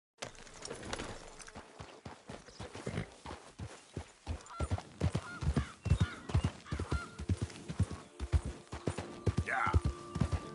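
Horse hooves clip-clop at a brisk pace in the Red Dead Redemption 2 video game, with uneven beats and occasional snorts, and someone talks over the hoofbeats.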